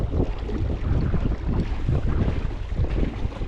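A small motor boat running on a pond in the evening, with a steady low engine rumble mixed with choppy water and gusting wind noise that continues throughout.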